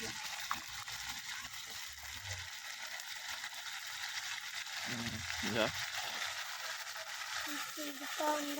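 Onions and spices frying in oil for a home-cooked duck curry: a steady sizzle and crackle runs beneath close conversational voices, with occasional stirring clinks.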